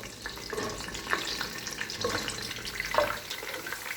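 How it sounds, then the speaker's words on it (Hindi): Almonds and raisins frying in hot oil for chicken mandi, giving a steady soft crackle and hiss with a few louder pops, close and moderate in level, without talk. "अब इसमें थोड़े से बादाम और किशमिश डाल देंगे, इन्हें फ्राई कर लेंगे।"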